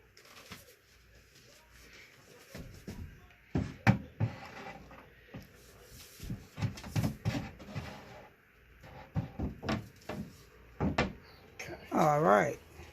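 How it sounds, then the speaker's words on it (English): A shelf is set into a Home Styles kitchen cart during assembly, giving several sharp wooden knocks and clunks at irregular intervals under a person's intermittent talk. "placing in the shelf. And just make sure it's secure on there."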